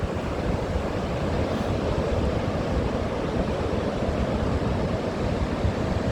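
Ocean waves break against a cliff corner below, making a continuous, loud, wide roar of surf that is mixed with wind buffeting the microphone and has no clear separate crashes.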